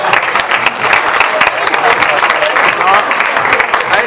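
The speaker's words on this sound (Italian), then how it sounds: "Bravi ragazzi, l'altro applauso per loro." Spectators at a match between Sassi and Cafaro in San Giovanni Lupatoto applaud the players, brisk, close clapping that carries on steadily with faint crowd voices underneath.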